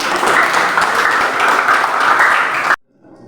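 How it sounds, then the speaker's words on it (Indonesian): A classroom audience applauds a student group in a chemistry lesson on molecular shapes, a dense, steady wash of many hands clapping for nearly three seconds before cutting off abruptly into near silence. "Tepuk tangan untuk kelompok 1."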